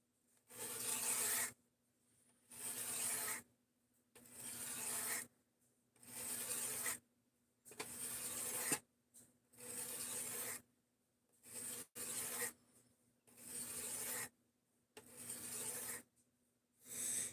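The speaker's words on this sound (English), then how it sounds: "this is just a knife sharpening stream" A knife is drawn over a sharpening stone in slow, regular strokes. Each steady rasping pass lasts about a second, separated by brief silences, close and fairly quiet, with no voices.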